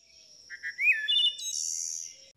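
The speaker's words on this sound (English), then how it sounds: "Here's a wood thrush at normal speed." A wood thrush sings at normal speed, a single clear phrase of a few soft opening notes rising into a bright fluting trill and sustained high warble, close and alone against silence.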